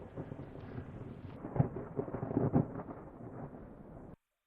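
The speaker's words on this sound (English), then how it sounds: "I'm gonna get out of this thunderstorm" Thunder rumbles through an outdoor thunderstorm, a few deep rolling booms rising and fading over a low background before cutting off abruptly.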